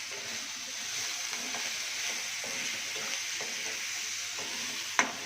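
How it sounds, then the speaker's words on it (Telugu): Raw banana curry fries in a pan with salt, a constant close sizzle with light, occasional scraping as the pieces are stirred, ending in a sharp knock; no speech. "సాల్ట్ వేసిన తర్వాత ఒకసారి కలపండి"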